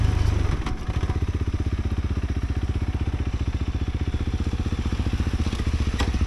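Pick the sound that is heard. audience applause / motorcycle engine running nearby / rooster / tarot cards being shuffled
motorcycle engine running nearby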